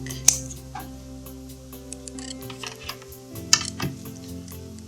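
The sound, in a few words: scissors cutting fur fabric backing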